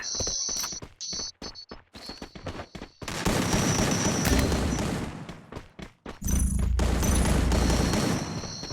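Rapid bursts of gunfire from the video game Free Fire, loud sustained automatic volleys that start after a few sharp separate shots and run in two long stretches with a brief gap.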